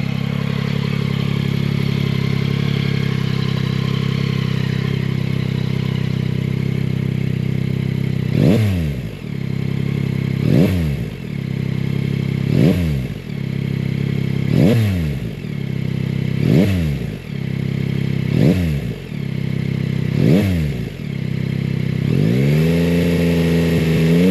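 A 2022 Yamaha Tracer 9 GT motorcycle engine idles steadily, then revs sharply in a series of about seven evenly spaced bursts, loud and close, with a final rising rev at the end.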